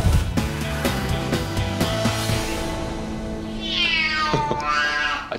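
A rescued cat, an animal abuse survivor, meows at a vet clinic: several short clear meows followed by a longer drawn-out cry, close to the microphone over a background hum.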